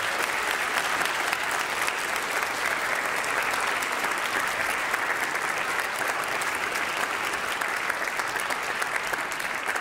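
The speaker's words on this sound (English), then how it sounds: "How about another round of applause for this wonderful choir?" Steady, dense audience applause at a high school choir concert, a continuous even wash of many hands clapping from a large crowd with no talk over it.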